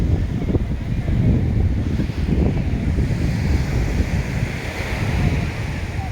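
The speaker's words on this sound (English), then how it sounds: "This vast body of ocean looks kind of wonderful." Ocean waves washing onto a beach, a steady broad roar of surf heard with heavy wind buffeting the microphone throughout.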